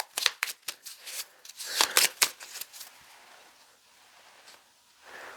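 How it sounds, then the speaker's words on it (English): Cards from a Bloodborne board game deck are shuffled by hand: a run of quick, close papery riffles and rustles at the start, then quieter handling and a final soft rustle. "We'll shuffle this back into the consumable deck."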